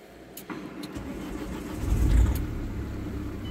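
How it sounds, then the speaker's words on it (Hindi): Car engine cold-starting on a freezing night at high altitude in Spiti Valley, near a river: a low cranking rumble swells into a louder idle around the middle, then settles steadily, fairly close, with no talk. "गाड़ी को अपन कर देते हैं कोल्ड स्टार्ट"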